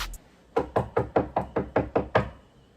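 Eight firm knocks on a door in a steady, quick rhythm, close and clear with no voices.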